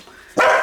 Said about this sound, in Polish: Jeżeli słyszycie szczekanie